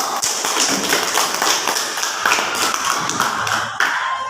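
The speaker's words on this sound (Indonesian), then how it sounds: "Kita berikan aplaus untuk kelompok 1" Applause for the first group of presenters in a classroom, a dense crackle of many hands clapping continuously, fairly loud and steady with occasional sharper taps throughout.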